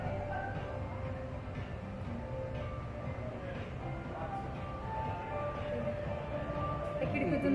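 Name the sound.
Pune Metro train running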